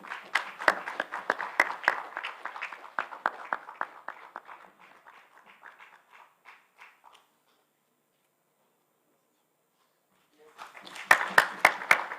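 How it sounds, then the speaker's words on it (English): An audience claps at a memento presentation during a standards plenary session, a loud burst of applause that thins to scattered claps and stops, then resumes loudly after a pause. "Round of applause, please."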